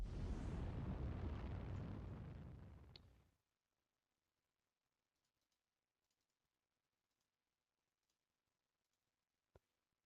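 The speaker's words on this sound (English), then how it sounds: "manually fired some missiles" Missiles fired in the naval wargame Command: Modern Operations, a loud roaring launch rush that fades out after about three seconds, followed by near silence with a few faint ticks and one sharp click.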